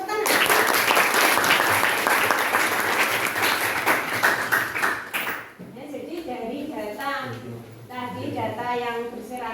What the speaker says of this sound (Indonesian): Ya, betul sekali tepuk tangan.